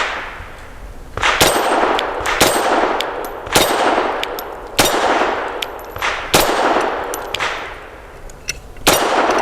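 Sharp, loud pistol shots from a Grand Power LP380 firing 95 grain Blazer brass .380 rounds, about eight reports spaced roughly a second apart, each with a ringing decay, and no talk.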